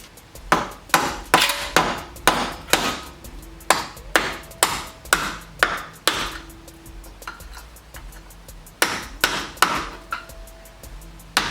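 Repeated sharp metallic hammer blows ring out while the axle is knocked free of a BMW X5 E70 during an oil pan gasket job done without a lift, about twenty strikes in uneven bursts, close and loud.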